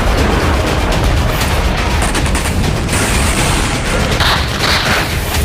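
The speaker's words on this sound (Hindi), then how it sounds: "रूस के सोची में सीक्रेट सर्विस हेडक्वार्टर पर तेज धमाका हुआ" Loud, dense rumbling blast noise from a drone strike on a building, with crackling debris and roaring, continuing without a break.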